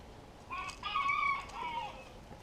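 Backyard chickens in a desert food garden give a drawn-out rooster crow with clucks around it, moderately distant and soft over a quiet background.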